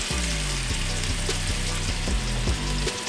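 Boneless chicken searing on medium heat in a hot pan for chicken and sausage gumbo, a dense, loud, close sizzle that holds steady throughout with a faint low hum beneath.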